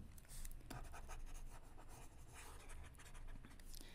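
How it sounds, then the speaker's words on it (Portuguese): Marker or chalk writing on a board during a statistics lesson, a steady run of scratchy, close strokes filling the whole stretch with no voices. "Vamos escrever isso também."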